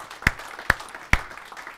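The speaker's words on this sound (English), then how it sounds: "Yes, please give them a round of applause." A few sharp, evenly spaced hand claps ring out in a church as applause, three distinct slaps about half a second apart, close and fairly loud against a quiet room, with no one talking.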